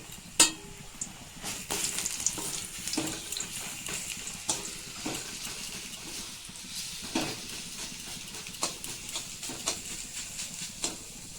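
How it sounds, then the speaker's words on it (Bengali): Lentil paste stirred and fried in hot oil in a kadai while cooking taro-leaf greens, with a soft steady sizzle and repeated scraping spoon strokes close by, no talking. "এর মধ্যে এবার ডাল বাটাটা একটু নাড়িয়ে নেব।"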